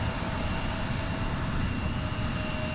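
A jet airliner powers up for takeoff on runway 17 at an airport, producing a loud, continuous engine roar with a steady whine running through it, heard without talk.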